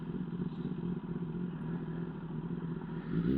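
A Kawasaki Ninja ZX10R with cat and exhaust valve deleted and a slip-on muffler idles with a steady, lumpy engine burble close by, revving slightly near the end.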